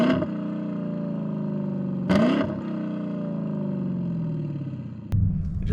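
A Lexus LC 500 engine downshifts at 3,000 RPM while slowing for a red light, the revs falling steadily with sharp blips at each gear change, heard from inside the car.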